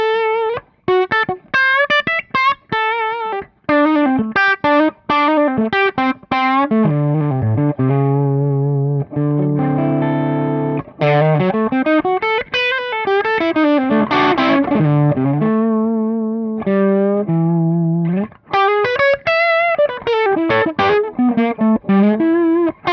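An electric guitar played through a BuzzTone Megaplex effects pedal on its stage 3 setting, with thick, fuzzy distorted notes and sliding bends in choppy phrases broken by short gaps, then a held, wavering passage before more picked runs.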